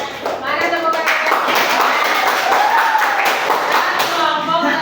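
A classroom of junior high students clapping together in a sustained burst of hand claps, loud and close, with voices mixed in throughout.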